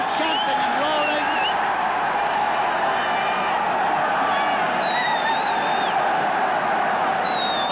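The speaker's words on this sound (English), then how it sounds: "with the Cork crowd still chanting and roaring" Cork supporters chanting and roaring at the 1966 All-Ireland hurling final against Kilkenny, a steady wash of distant stadium crowd noise with a commentator talking over it throughout.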